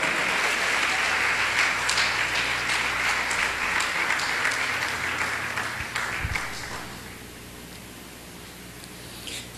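A church congregation gives a sustained round of clapping in praise, dense and fairly close, holding steady for several seconds before thinning and fading toward the end.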